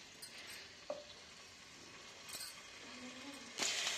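Potato slices cut chip-style sizzling quietly in oil in a pan, a soft steady frying hiss with a couple of faint clinks of utensils against the pan.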